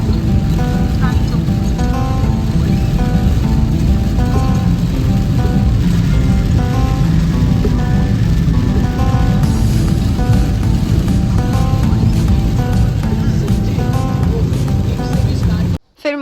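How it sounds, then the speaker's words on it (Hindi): Heavy rain drumming hard on a car driving slowly through a downpour, a dense, loud hiss and patter with road and engine rumble beneath, continuous for about sixteen seconds before cutting off abruptly. "बारिश इतनी ज़ोर से होने लग गई थी"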